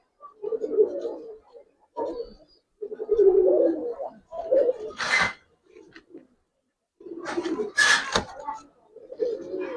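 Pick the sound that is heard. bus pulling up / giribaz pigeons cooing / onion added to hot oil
giribaz pigeons cooing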